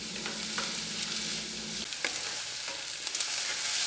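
Shallot risotto being stirred in a pan, a steady soft sizzle and frying hiss with scraping stir strokes close by and no talking.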